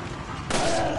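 Burst of gunfire in the Resident Evil 4 video game, a sudden loud broadband crack midway that rings on for half a second over low background game rumble.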